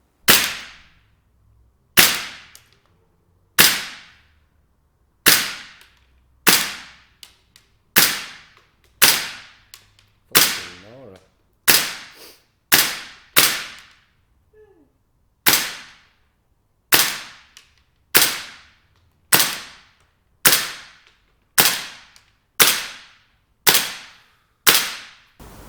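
A WE HK416 gas blowback airsoft rifle fires single shots one after another, each a sharp loud crack with a short decay. About twenty shots come at a fairly even rhythm, close by, with no talk.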